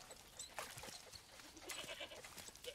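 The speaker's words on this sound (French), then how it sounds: "une chèvre" A goat in a jungle setting in Far Cry 6 bleats a few times, moderately close, over a steady background of ambient game noise.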